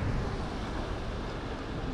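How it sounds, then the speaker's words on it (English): A river rushes steadily along a hiking trail on a sunny day, a broad, even wash of flowing water that stays constant and fairly close, with a faint rumble of wind underneath and no voices. "Yeah, it's the river."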